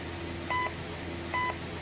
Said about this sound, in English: Scanners. Beep.